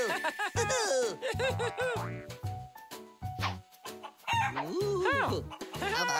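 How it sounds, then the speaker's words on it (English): Rooster crowing mixed with chicken clucking from a toddler learning show, loud and busy, with several bright calls layered over background music and sounds. "Chicken. Very good."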